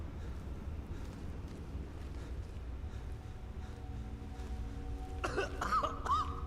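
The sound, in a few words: coughing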